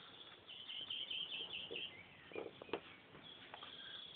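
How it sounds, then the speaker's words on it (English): Songbirds chirp and trill faintly in the distance in Weymouth after rain, a quiet run of repeated high calls over a soft outdoor hush. "I'm hoping that you can hear the bird song."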